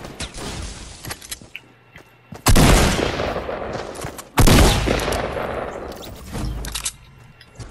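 Gunfire in the Fortnite Battle Royale video game: scattered quick shots, then two heavy, loud bursts of rapid fire with echoing tails, broken by shorter pops, all close and without talk.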